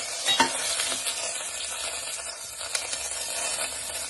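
Spices, bay leaf and red chilli frying and being stirred in a pan for a Kolhapuri rassa, giving a steady hiss with scraping stirs and a few sharper clinks, no talk.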